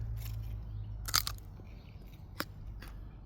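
Crisp bites into a fresh, homegrown Muncher cucumber in a garden, giving two or three sharp, close crunches separated by pauses with no talking.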